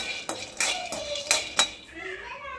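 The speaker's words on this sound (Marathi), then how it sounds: "शेंगदाणा भाजून घेत आहे" Peanuts are dry-roasted in a pan, with a handful of sharp, close clinks and scrapes of utensil against metal, then a quieter tail.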